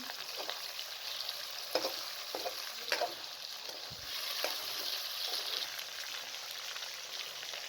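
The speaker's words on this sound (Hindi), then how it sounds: "आपने चिकन को इतना फ्राई करना है कि इसका कलर चेंज हो जाए।" Steady sizzling of chicken frying in a pan, a constant crackly hiss with occasional scrapes and taps of a utensil.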